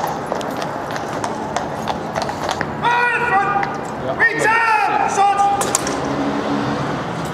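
Horse hooves clip-clop steadily in the foreground, with voices talking over them and a few sharp tonal calls in the middle.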